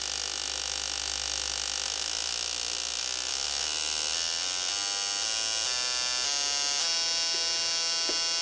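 A Yamaha Banshee 250R CDI ignition sparks on a tester while the rate climbs toward 5,000 RPM, producing a loud, steady electric buzz that rises in pitch in clear steps and ends with a brief click.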